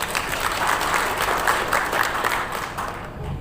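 A crowd at a West Java environmental event applauds in a sustained round of dense clapping, steady and moderately loud before tapering off near the end.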